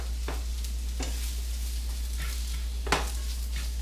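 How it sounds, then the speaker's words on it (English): Mushrooms sizzle steadily as they fry in a hot pan, with a few soft clinks of a utensil stirring and one sharper scrape near the end. "And just let it fry and sizzle away."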